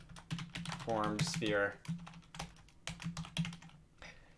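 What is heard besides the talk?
typing on a computer keyboard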